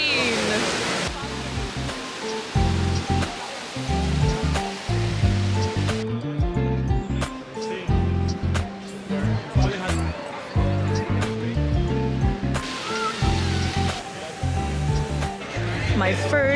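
The Trevi Fountain in Rome pours its water as a steady loud rush, heard under nearby voices and crowd murmur throughout.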